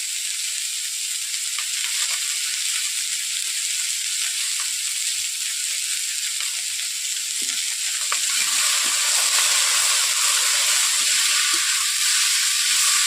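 Bottle gourd pieces with salt, turmeric and chili sizzle loudly in a pan, a constant close hiss that grows stronger near the end, with faint stirring scrapes and no talking.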